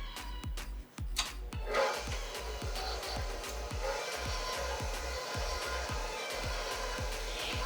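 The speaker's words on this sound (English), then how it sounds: "If you're using an electric mixer, you'll want to use your flat beater attachment for this on a low to medium speed." A stand mixer with a flat beater creams butter and yolks at low to medium speed, a steady whirring drone with a regular rhythmic knock from the rotating beater, close and continuous throughout.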